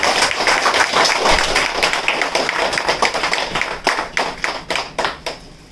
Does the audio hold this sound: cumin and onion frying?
no